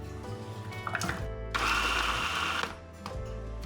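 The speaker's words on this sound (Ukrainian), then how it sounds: "Цибулю та чесник також подрібнюємо за допомогою блендера" A blender whirs in short bursts chopping onion and garlic, with one longer, louder high-pitched run as it chops through, then the motor winds down.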